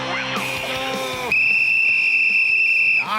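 A sports whistle is blown in a podcast intro. After a brief warbling tone comes a long, loud, steady shrill blast held for almost two seconds, alone without talk.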